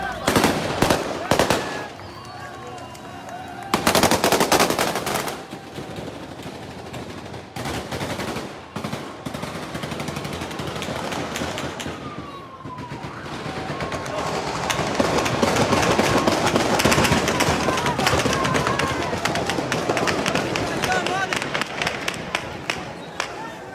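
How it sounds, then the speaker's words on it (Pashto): Gunfire rings out in Kunar province, Afghanistan, as the Taliban take over: a close burst of rapid shots opens, then more bursts and sustained crackling volleys follow, with distant echoing reports throughout and voices talking over parts of it. "ډزې دي ټول ډزې دي"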